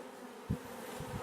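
Bees buzzing around open beehives in a spring apiary, a steady near swarm hum with a few louder close passes of individual bees, no talk.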